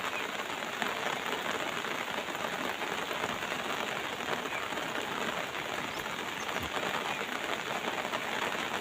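Morning rain falls steadily in Bangkok, a dense, even hiss of drops on surfaces that holds unbroken from start to finish.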